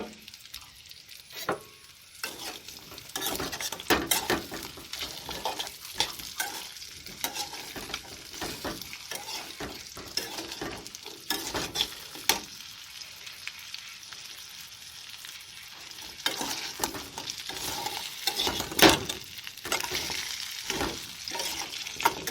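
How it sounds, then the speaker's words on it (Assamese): Mutton pieces and onions frying over a high flame for mutton korma, a steady close sizzle with repeated stirring scrapes and clinks running throughout, no voices. "এনেকৈ মাংসখিনি 1 মিনিটৰ কাৰণে হাই ফ্লেমত ভাজি ল'ম"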